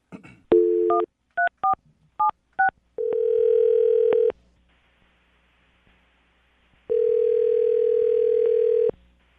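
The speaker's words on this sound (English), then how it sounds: "Dial the phone number right now." Rapid touch-tone beeps as a phone number is keyed in, followed by two long steady ringback tones separated by a quiet gap.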